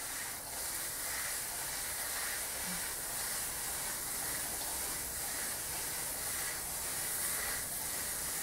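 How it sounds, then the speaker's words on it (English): Cashew nuts and naturally brewed Japanese soy sauce sizzle in a cast aluminium stir fry wok, giving a steady, loud hiss that runs unbroken without speech. "add the cashew nuts now, a bit of extra protein, and some naturally brewed Japanese soy sauce"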